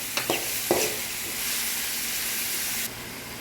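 Ground beef dropped into hot oil with garlic and onion, bursting into a loud, steady hiss after a few initial clatters, then sizzling evenly up close.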